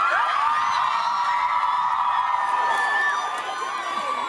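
An audience cheering for dancers: a dense, steady wash of crowd shouts and whoops at full level throughout, with no clear individual words.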